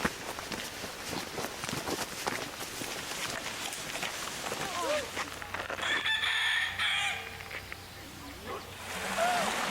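Roosters crow at a rooster farm beside a Michigan trail, several clear calls rising over footsteps and light movement, with a voice speaking in the background.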